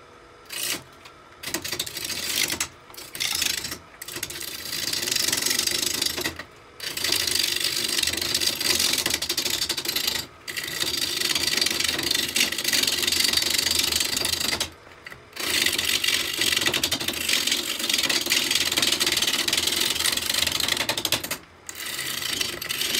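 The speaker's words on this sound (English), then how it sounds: "I'll rough this out with a 5/8 bowl gouge with a 40-40 grind" A wood lathe spins a bowl blank for a mortar and pestle at around 1200 RPM while a 5/8 bowl gouge with a 40-40 grind roughs it out, making a loud, continuous scraping hiss broken by short pauses.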